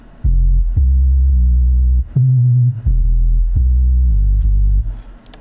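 A synthesized sub bass plays a sequence of sustained low notes with slight vibrato and some added distortion, each note held about a second and loud, with no other sound.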